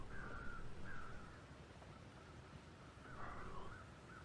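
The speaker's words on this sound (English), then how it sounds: "I am hearing a second set of, there we are, second set of crows over there" Crows caw in The Long Dark survival video game, a few harsh calls at a moderate distance, repeated at uneven intervals over a soft wind-like ambient hiss.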